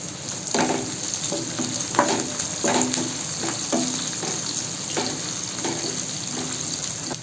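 Garlic and green chili sauté in a hot pan for brinjal chutney, giving a steady close sizzle with repeated scraping stir strokes roughly every half second and no talk.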